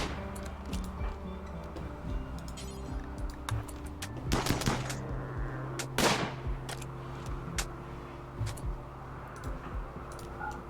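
Scattered gunfire in the video game Chilly Brutality, sharp isolated shots and short bursts over a low ambient hum, with two louder cracks in the middle and ticking clicks between.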